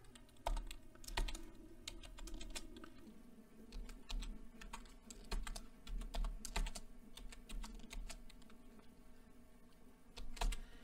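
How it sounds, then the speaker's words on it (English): Someone types a password on a computer keyboard, producing close, uneven clusters of key taps with brief pauses between them, and no speech. "So now next thing I'm going to do is write a password."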